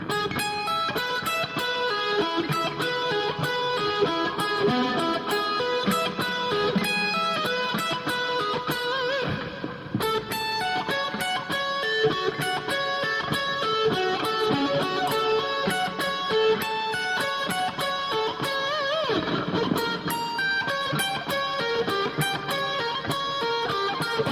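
A slow electric guitar line repeats a pattern of notes over a steady backing, continuous and fairly loud, with a brief pause near the middle.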